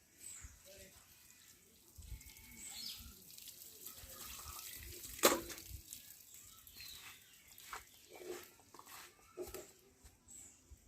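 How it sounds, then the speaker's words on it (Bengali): Tap water runs and splashes softly while kharkol (ghatkol) leaves are washed in a kitchen sink, a faint steady trickle with light clatter and a sharp click partway through. "এখন আমি শাকগুলো ধুয়ে নেব।"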